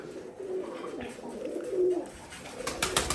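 Rajshahi Giribaz pigeons coo softly and close by in a few low, throaty phrases, with light rustling and clicks toward the end.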